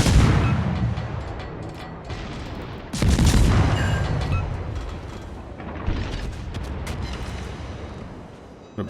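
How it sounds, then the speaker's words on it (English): Warship guns firing in the naval video game World of Warships, heavy booming salvos with rumbling tails, a big blast near the start and another a few seconds later, loud, with no talk. "Concentrate fire on the enemy warship."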